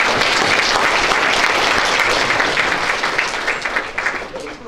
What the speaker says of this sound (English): They too deserve a round of applause.